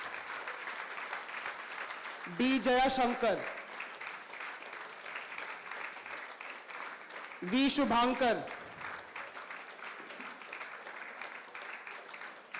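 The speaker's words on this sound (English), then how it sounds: "you don't have the choice to stop the claps" Steady applause from an audience at a live hackathon event in Vizag, continuing throughout while a presenter reads out names over it, with two brief louder bursts of voice.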